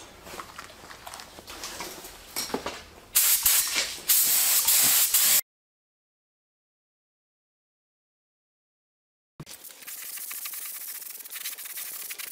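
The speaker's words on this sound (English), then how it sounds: "For this part I'm going to be using a spray gun" A spray gun sprays paint onto a repaired car bumper in loud, steady hissing bursts, broken by a stretch of silence before the spraying resumes.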